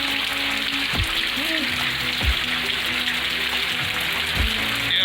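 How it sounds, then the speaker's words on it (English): Steady rain falls outdoors on a campus, a dense continuous hiss with occasional low thumps, and a voice speaks briefly over it. "It is raining. It is raining. It is raining."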